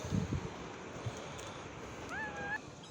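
A mother cat meows twice in quick succession from a balcony, a rising, plaintive, angry cry heard at moderate distance over a steady wash of wind or surf, with some faint background voices.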